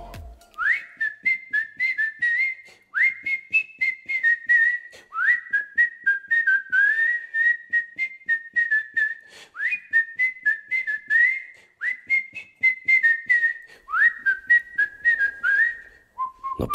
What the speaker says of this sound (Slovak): veselo si pískal čarovným lesom